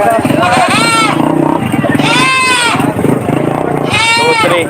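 Several goats bleat loudly in a row at a goat market, long wavering cries close by, with a busy crowd and voices underneath.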